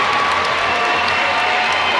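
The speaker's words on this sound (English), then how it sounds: "And a big ovation for the crowd" A basketball crowd gives a loud, sustained ovation after a high school Wildcats win over Highland Park, with dense cheering, clapping and shouts filling the gym without pause.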